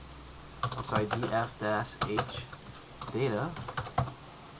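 Someone types a short command on a computer keyboard, producing quick bursts of clicky keystrokes mixed in with a person speaking nearby.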